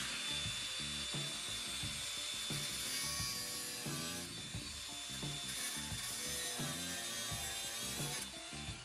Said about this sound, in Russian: отпиливаем лишнее